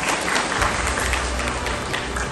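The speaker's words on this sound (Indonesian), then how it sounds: "Tepuk tangan buat Kang Rizky ya." Steady applause from an audience at a motivational talk, continuous and fairly loud for the whole stretch, with no speech over it.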